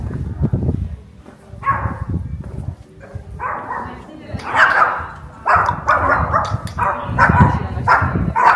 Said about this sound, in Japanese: 犬？ 犬です。